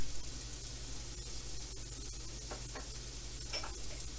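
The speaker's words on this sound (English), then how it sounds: "and then I'll add the salmon to heat it up, and then add the egg" Salmon and egg for an omelette sizzle steadily in a pan with a soft, constant frying hiss and a few faint clicks from the utensil.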